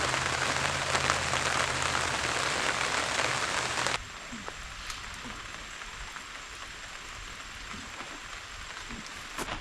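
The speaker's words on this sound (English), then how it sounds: "The rain picked up, so I went ahead and put up the awning" Rain patters densely on a truck camper awning, loud hiss at first, then softer, more distinct drops tapping overhead after a sudden drop in intensity.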